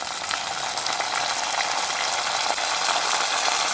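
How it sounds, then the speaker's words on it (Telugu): Pounded curry leaves hit hot oil with a steady, loud sizzle that keeps up without a break. No one speaks. "దంచి పెట్టుకున్న కరివేపాకు వేసుకున్నాం"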